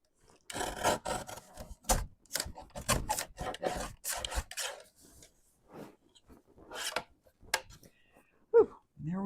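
Hand trimming of a small piece, heard as close, dry rasping and scraping strokes in uneven bursts, separated by short pauses in an otherwise quiet space.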